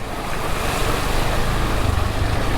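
A KTM 390 Adventure motorcycle slowing as it enters water on a rural lane, producing a continuous broad wash and splash with a low engine rumble and some wind buffeting, loud and close with no talking.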